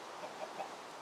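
Chickens in the Minecraft video game cluck in a few short, soft calls spaced across a brief moment over a faint steady background.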